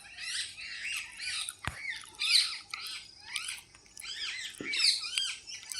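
Shrill squawks from parrots by water in the morning repeat in quick bursts against a quiet background, with a couple of sharp knocks between the calls.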